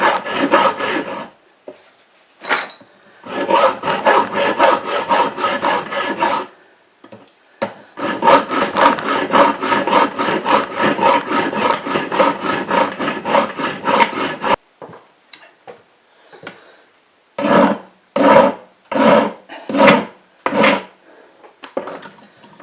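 A hand file rasps back and forth across a small metal crank pin mount clamped in a vise, loud close strokes in long rhythmic runs broken by brief pauses, ending in a few slower separate strokes.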